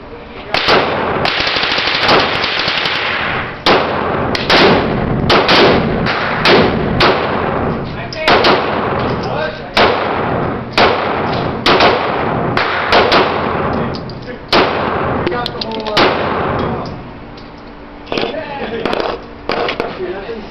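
Repeated gunfire from a Glock 19 Gen 6 pistol, fired in rapid strings of close, loud shots over several magazines, with short gaps between bursts and a quieter stretch near the end.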